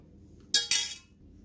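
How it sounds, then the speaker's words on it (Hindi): Immune-boosting winter tea strained into a glass, heard as two quick bright glassy clinks close together, followed by a short fading ring in an otherwise quiet kitchen. "अब हम इसको छन्नी से छान लेते हैं और गिलास में डाल लेते हैं।"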